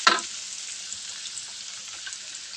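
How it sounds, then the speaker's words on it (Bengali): Marinated fish pieces spread across a frying pan in hot oil give a steady, close hiss of sizzling after a brief scraping stir at the start, with no voices. "এই যে আমি সমান করে এই চারোপাশে ছড়াই দিচ্ছি মাছগুলো"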